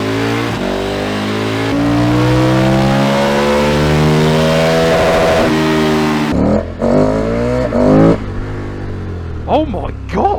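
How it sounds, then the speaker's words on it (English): KTM road motorcycle engine revving hard and loud, a steady high-pitched roar that holds for several seconds, then breaks into short sharp throttle blips with a rider's excited voice heard over it. "this bike's so loud!"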